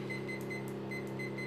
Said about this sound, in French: j'ai pris mon petit minuteur parce que j'avais pas le temps